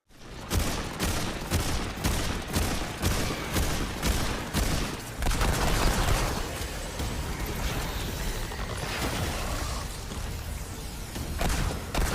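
Rapid, sustained gunfire from the shooter Remnant II, a dense string of loud, evenly spaced shots rattling on for twelve seconds with only brief changes in pace and no voices.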